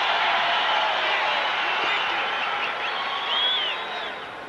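A crowd at a 1993 full contact karate match roars loudly and steadily throughout, a dense, sustained cheer that swells briefly near the end before easing slightly, with no distinct talk above it.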